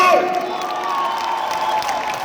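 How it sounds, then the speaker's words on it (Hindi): An audience at a live event with actor Rajpal Yadav cheers and shouts loudly, a dense crowd roar with whoops sustained throughout, fairly close and filling the space. "उस 10 गुना तालियां अपने लिए बजा लीजिए"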